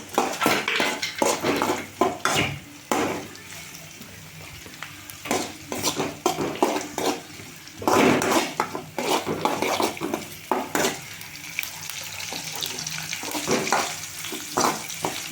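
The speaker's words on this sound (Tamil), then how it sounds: "இப்போ ஒரு வதக்குறோம் பாருங்கள், நல்லா வதக்குறோம் பாருங்கள்." Onions and green chilies are sautéed in a pan while making vadam palam thokku. A spoon scrapes and clinks against the metal again and again over a steady low sizzle.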